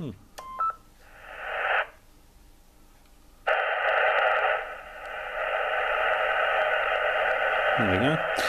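A Yaesu FT857D tuned to the 40 metre band near 7093 produces bands of hissing radio static and noise that start and stop, with a loud steady wash of static filling the second half and a short tuning chirp near the end.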